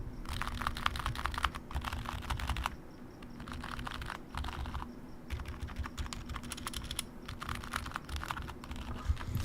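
Steady, muffled typing on a quiet mechanical keyboard, an EC Dropbear60 split build, with dense bursts of soft keystrokes and brief pauses, fairly quiet and close with no talking.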